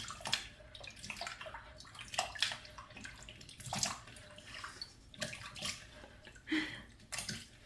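Potatoes stirred by hand in a bowl of salted water for French fries, giving soft irregular sloshes and splashes up close, with quiet gaps between strokes.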